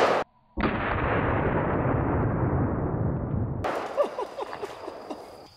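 .357 Magnum revolver firing at fruit outdoors: one loud, close blast with a long booming roll-off, then scattered small pops and debris patter as the fruit breaks apart, with no talk.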